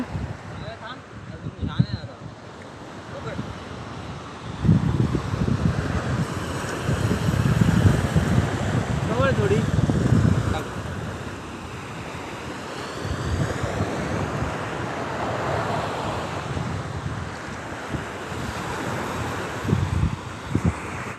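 Sea waves wash onto a clean, scenic shore under gusting wind, the surf swelling and easing in broad surges, with people talking over it throughout.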